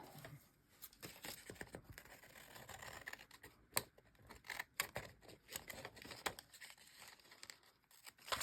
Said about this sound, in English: Now I'm going to trim this.